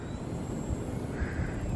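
Small model airplane flying over a club airfield, its engine a steady, continuous drone held at a fairly even level throughout with no voices over it.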